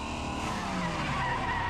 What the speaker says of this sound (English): Good sound design on that car crash, I'll say.